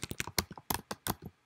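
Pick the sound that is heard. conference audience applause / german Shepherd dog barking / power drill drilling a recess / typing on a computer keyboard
typing on a computer keyboard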